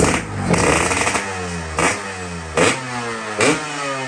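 A motorcycle for sale at a village dealer is revved in four sharp bursts, each rising and settling back to a loud, close idle, with no talking.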